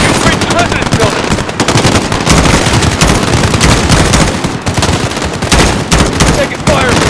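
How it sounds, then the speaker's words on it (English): Sustained automatic gunfire from the Call of Duty: Modern Warfare campaign embassy mission, with dense, loud rapid bursts and overlapping shots crackling continuously and close, with faint shouted voices mixed in. "Taking fire from the residence."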